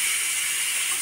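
Pressure cooker holding rice and dal lets out a loud, steady steam hiss, close up and continuous for the full second with no voices.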